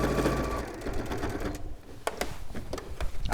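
A sewing machine runs fast and loud while stitching a bag seam, a dense rapid mechanical whirr that stops partway, followed by a few sharp clicks and short bursts of stitching.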